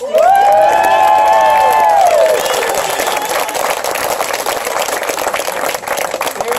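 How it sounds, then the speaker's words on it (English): A crowd at a get-out-the-vote rally in Blacksburg, Virginia applauds and cheers for the host, loud whoops and shouts riding over dense clapping at first, then sustained applause continuing on its own. "how about a round of applause for our host?"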